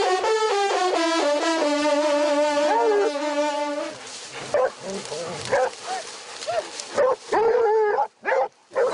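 A hunting pack of hounds closing on a fox in the Touraine countryside gives tongue, steady baying for a few seconds, then broken yelps and whimpers, close and loud.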